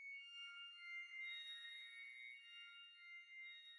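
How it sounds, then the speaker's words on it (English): A high-pitched, glassy synthesizer from Output's Analog Strings VST plays a sustained shimmering chord with soft reverb tail, clean and alone, with no other sounds. "glassy synthesizer sound."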